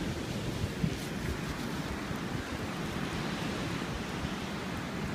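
Wind-driven waves wash onto Falmouth beach on a showery day, a steady, dense roar of surf and gusting air that holds at an even level throughout with no breaks.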